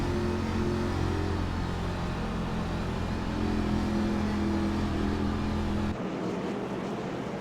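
Race cars roar back to speed on a green flag restart after a pace car period, giving a loud, dense, sustained engine drone with steady pitch that cuts off sharply near the end.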